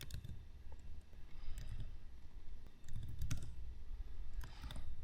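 Typing on a computer keyboard while setting up accounts in accounting software, with soft clustered key clicks in short bursts over a low background hum and no speech.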